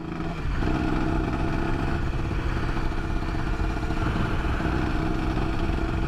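Motorcycle being ridden on the road, a steady, loud engine drone with wind rush and rattling throughout, close and continuous with no pauses.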